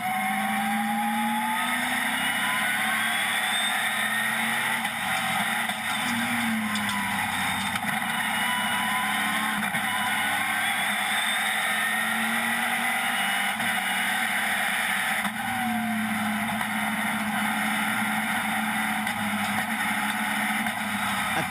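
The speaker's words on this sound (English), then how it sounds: "At the end of the lap, he passes Christophe de Fierlot in number 46 on the outside." NASCAR Euro race cars at Brands Hatch roar continuously, engines rising and falling in pitch through gear changes as they pass, heard at a distance under a dense, steady drone.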